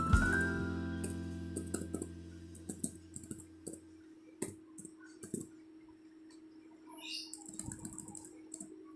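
Computer mouse clicks and keyboard taps while setting up Google Analytics, scattered sharp clicks in irregular bursts at close range, some louder than others, over a quiet room with a fading tone at the start.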